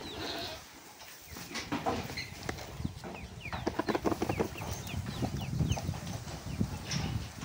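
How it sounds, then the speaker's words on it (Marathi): Goats on a farm being given fodder, with scattered bleats and rustling, shuffling movement and clattering as they crowd in to eat, moderately close and busy throughout. "मित्रांनो, आपण आता शेळ्याला चारा टाकत आहोत."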